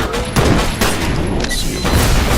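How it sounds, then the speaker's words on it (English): Heavy suppressing gunfire in the shooter game F.E.A.R. comes as loud, dense, overlapping bursts of shots with booming reports, close and continuous across the whole moment. "Suppressing fire."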